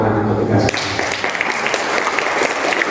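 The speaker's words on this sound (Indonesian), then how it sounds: "Jadi tepuk tangan untuk kita" An audience claps in applause at a parish gathering, a dense steady roar of many hands that starts abruptly and carries on loud throughout, with a voice briefly heard beneath it.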